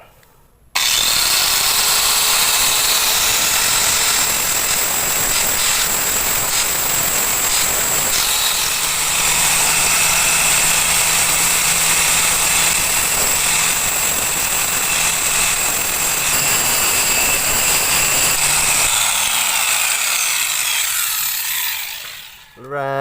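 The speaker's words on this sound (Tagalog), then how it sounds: "So ito lang gagamitin ko, itong power grinder" A power grinder works a Mio Sporty scooter's tensioner part, a loud continuous close grinding whine with shifting pitch that runs for about twenty seconds before stopping, with no talk.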